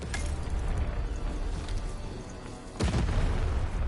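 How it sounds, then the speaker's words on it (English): A cannon fires in the video game Lost in Random, a deep booming blast near the end, following a busy rumbling game soundscape. "Shoot the button to fire the cannon."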